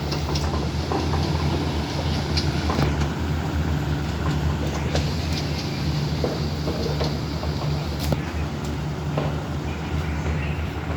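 A train pulling out of Krung Thep Aphiwat Central station at Bang Sue, with rear car 1244, making a continuous rumbling roll with faint clanks, steady and moderately loud, and no voices.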